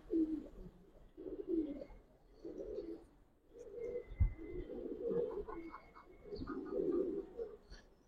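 Giribaz pigeons, a male among them, coo in repeated low rounded phrases, close and moderately loud, with a brief sharp knock partway through and faint higher chirps from other birds.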